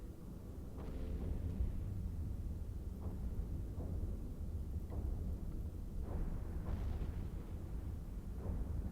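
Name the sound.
hive structure explosion in EVE Online video game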